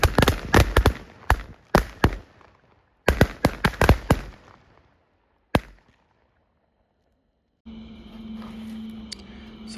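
A whole string of red Diwali firecrackers bursts in a rapid crackling volley, loud and close, with pauses between bursts and a final lone bang, followed by steady background noise.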